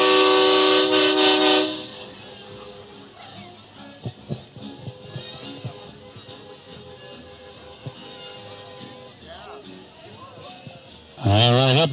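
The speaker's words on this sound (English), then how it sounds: "Yes, honk if you love Christmas." Vehicle horns honking along a 2023 Christmas parade route in Lompoc, a loud harmonic blast at the start and another at the end, with quieter street noise, clatter and faint voices in between.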